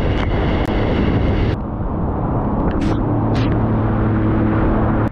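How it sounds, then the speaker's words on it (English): Strong wind buffets the microphone at sea off the Gold Coast while riding a 2020 Sea-Doo GTX 230 personal watercraft, a loud constant roaring rush with engine drone underneath and a couple of brief clicks. "It's fucking windy"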